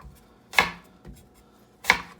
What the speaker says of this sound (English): as I slice apples